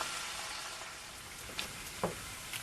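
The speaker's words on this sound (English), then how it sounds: "we have peppers and onions to put in there just to get them a little caramelized" Peppers and onions frying in a pan until caramelized, outdoors in the desert, giving a steady broad sizzle with a few faint pops and stirring clicks, close and continuous with no voices.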